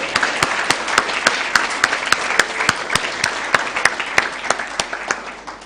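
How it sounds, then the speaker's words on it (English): An audience at a moot court competition in Kenya applauds, with steady, moderately loud clapping that has several sharp, regular claps on top, sustained for several seconds with no voices over it. "start with a round of applause for all our participants and teams"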